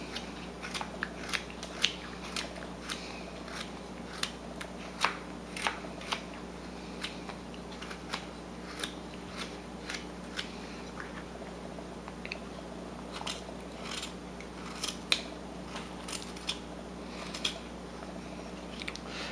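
A carving knife making push cuts while shaping a small stylized wooden fish, quiet close crisp snicks and scrapes repeating irregularly over about twenty seconds with no talk.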